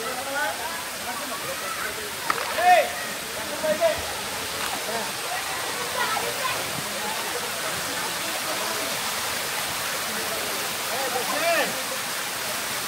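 Waterfall and flowing water in the Maredumilli hills, a steady broadband rush running throughout at moderate level, with a few brief louder bumps and faint background voices.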